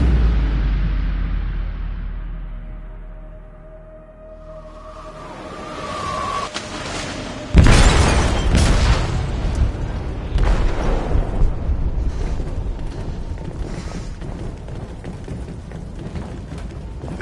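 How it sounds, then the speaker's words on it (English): A blast erupts inside the hold of a ship, a sudden loud broadband boom partway through, followed by a sustained roaring, crackling rumble and scattered bursts continuing to the end. "They detonated an explosive in the hold."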